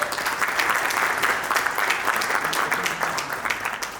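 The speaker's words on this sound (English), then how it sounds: "Please have a big round of applause, sir." Steady applause from an event audience honoring a police traffic and road safety official, broadband clapping rolling evenly for the whole few seconds with no voices on top.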